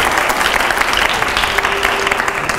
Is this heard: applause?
yes